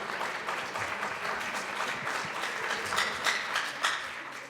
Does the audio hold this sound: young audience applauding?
yes